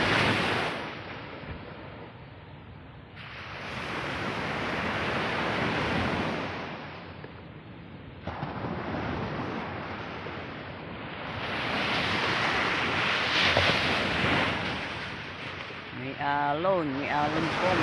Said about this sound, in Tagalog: May alon po, may alon.